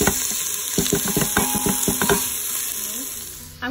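Onion sizzles in foaming butter while a spoon stirs it, giving a burst of quick scraping strokes over a steady crackling hiss that settles down toward the end.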